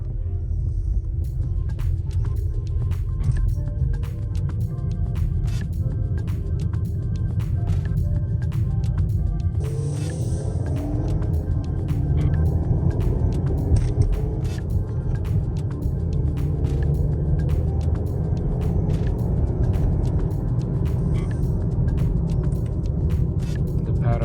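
A turbo-swapped 2017 Volkswagen Passat GLI with a DQ250 DSG gearbox drives along, giving a steady low engine drone and road rumble from inside the cabin, with a slight shift in tone partway through.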